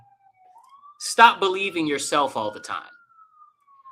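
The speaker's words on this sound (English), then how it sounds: "Sorry for the sirens," An emergency vehicle siren wails outside during an interview, a faint rising and steady tone running from start to finish behind a close voice speaking in the middle.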